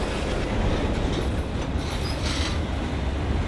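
A heavy freight train on the Great Northern High Line rumbles steadily past up close, a dense continuous roar of wheels and rail noise with faint metallic squeals.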